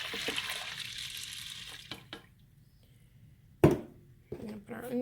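Water runs from a kitchen tap for making hummus, a steady hiss for about two seconds that then stops. A few clinks and handling knocks follow.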